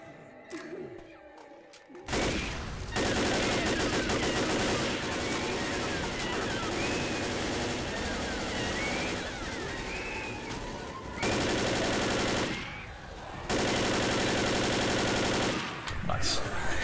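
Sustained automatic gunfire in the video game Left 4 Dead, loud dense bursts running through most of the stretch with brief pauses between volleys.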